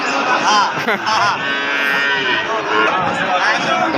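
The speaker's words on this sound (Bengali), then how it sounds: "দেখুন দুই দাঁত বয়সের খুব সুন্দর শাহিওয়াল ষাঁড় গরু" A two-toothed Sahiwal bull moos loudly and at length, a drawn-out bellowing call with a few shorter lows, over steady crowd noise with no clear talk at a cattle market.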